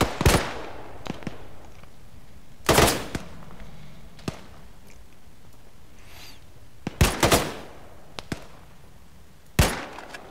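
Gunfire in the military shooter ArmA 3: loud, sharp shots in short bursts and single cracks spaced a few seconds apart, with quieter distant reports and ambient rumble in between.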